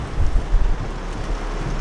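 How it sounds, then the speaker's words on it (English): Rain falling outside a car parked in a parking lot, heard from inside as a steady broadband wash with low rumbling gusts, moderately loud and continuous, with no voices. "It's still raining out here, so we just sitting in the parking lot waiting."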